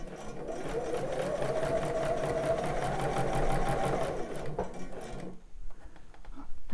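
A domestic sewing machine stitching a bra runs in a fast, steady mechanical whir for several seconds, then stops abruptly, followed by quiet handling sounds.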